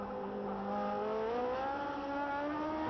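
Emerson Fittipaldi's 1972 Formula 1 car at the French Grand Prix howls past, its high engine note climbing and then sliding down as it passes through a corner, loud and steady with no talking.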